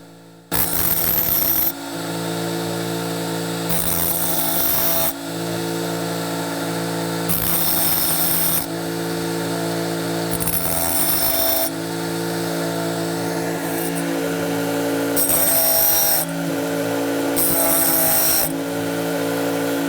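A Tigers Teeth blade sharpener grinds the teeth of a hole saw in loud, steady bursts of high-pitched whine. The bursts recur every two or three seconds over a constant background motor hum, with no talking.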